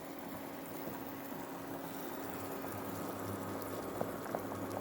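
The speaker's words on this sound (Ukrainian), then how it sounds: "Картопля закипіла" A pot of potatoes for green borscht bubbling at a steady boil, a continuous hissing simmer with occasional small pops, close by.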